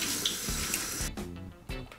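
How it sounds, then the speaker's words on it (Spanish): Tap water runs from a kitchen faucet as arugula leaves are rinsed under it for a healthy salad, a steady close splashing with irregular bursts and gurgles. "Lavamos también la rúcula debajo del grifo."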